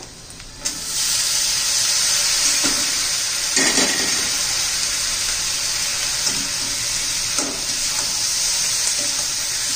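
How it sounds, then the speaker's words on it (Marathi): Bitter gourd sizzles steadily in a pan with onion, chilli, turmeric and coriander powder, a close, continuous frying hiss with a few louder stirring bursts and no talk. "आता आपलं कारलं घालून घेऊया."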